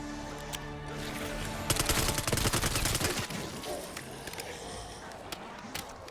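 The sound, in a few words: gunfire from upgraded weapon in Call of Duty Black Ops 6 Zombies video game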